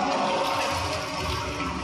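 A steady, loud rush of water runs through diving breathing apparatus while its threaded connections are checked for leaks, continuous and unbroken.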